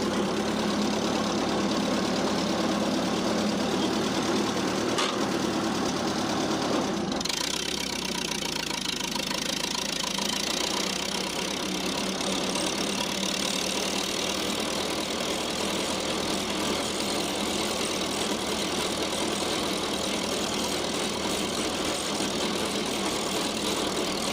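An old row crop tractor engine runs steadily throughout, a continuous mid-range idling drone with a slight change in tone a few seconds in, with no voices.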